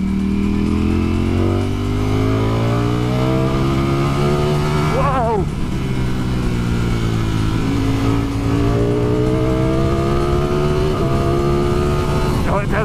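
A 2020 Ducati Streetfighter V4 engine revs loud and close, its note climbing and falling in repeated sweeps with a sharp blip partway through, and a voice is heard over it.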